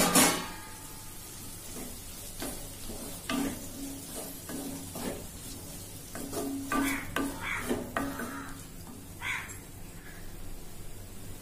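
Onions sautéing in a pan for prawn thokku, with tomato being added: a steady sizzle under repeated scraping and stirring strokes from a utensil, close by and moderately loud, with no talking.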